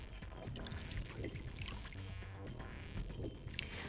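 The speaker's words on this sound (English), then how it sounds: "I'll just pour the saline solution in here" Saline solution pours into a beaker in the video game Zero Escape: Virtue's Last Reward, a soft gurgling trickle with small splashes continuing steadily at low volume.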